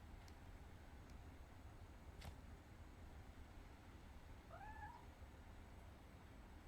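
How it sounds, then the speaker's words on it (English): A cat meows in the video game What Remains of Edith Finch: a single faint, short meow rises briefly over a steady background hiss of ambient noise. "Where's that cat sound come from?"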